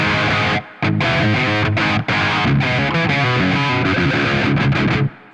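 Electric guitar played through the Marshall JCM 2000 amp model of a Valeton GP-5 multi-effect unit gives a crunchy, driven riff of rhythmic chords with two brief gaps, loud and close, ending in a short ring-out, no talk.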